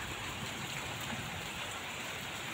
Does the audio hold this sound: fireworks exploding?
no